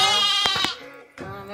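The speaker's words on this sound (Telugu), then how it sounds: "గొర్రెలు దొరికిపోయిందా?" Sheep bleating close by in a couple of wavering, nasal calls, the second after a short pause, with nothing else loud around them.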